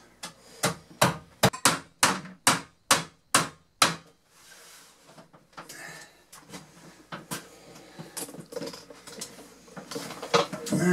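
Sharp hammer blows drive trim into place behind a toilet in a master bathroom: nine evenly spaced, loud, close strikes in a steady rhythm, then quieter scraping and handling noises.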